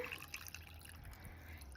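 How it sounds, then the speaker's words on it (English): Water poured into a pot of Mexican rice cakes to cover them, a soft, steady trickle and drip running the whole time, faint and close with no talk. "Then let's go ahead and add water to cover."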